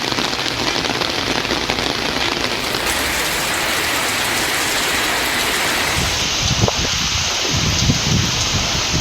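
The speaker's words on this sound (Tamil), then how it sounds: "இடியுடன் கூடிய கனமழை பெய்தது." Heavy thunderstorm rain falls in a loud, dense, steady hiss, close by and covering the whole range. Low thuds and rumbles near the end suggest distant thunder or water hitting surfaces.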